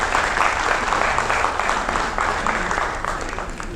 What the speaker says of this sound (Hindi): मैं चाहता हूँ कि पुरजोर तालियों के साथ मेरे डाइस के इस पहले शायर का इस्तकबाल हो